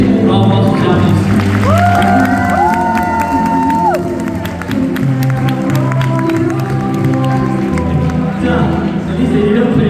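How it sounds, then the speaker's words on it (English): A crowd cheers, whoops and applauds at an awards event, loud and continuous over thumping background music, with raised voices in the mix. "can we give a massive round of applause to Jarvis"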